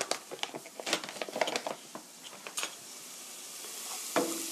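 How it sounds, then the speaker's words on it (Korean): Flour being stir-fried in a pan for a cream sauce, giving repeated scraping stirs over a light sizzle, close and fairly quiet, with no talking. "이렇게 볶아주세요"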